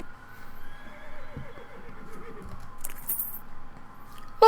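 A pale horse in the video game West of Loathing gives a clear, descending whinny, followed by faint jangling and a few clip-clopping hoof sounds.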